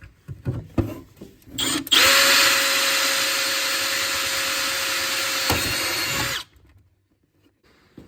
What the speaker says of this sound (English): we forgot to drill these rivets out here